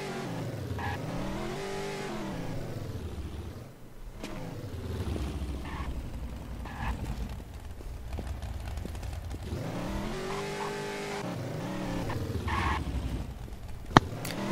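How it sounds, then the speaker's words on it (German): A car engine in the video game Infestation revs and drones steadily throughout, rising and falling in pitch as it drives past, moderately loud with a brief sharp click near the end. "Links höre ich ein Auto"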